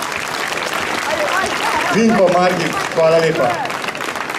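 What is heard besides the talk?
audience applause at tombola event in Kranj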